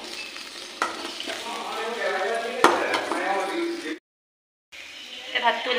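Vegetable bhaji sizzles steadily in a hot pan in a home kitchen, with stirring scrapes and a sharp utensil clink, briefly cutting to silence before the frying resumes; a voice talks faintly over it.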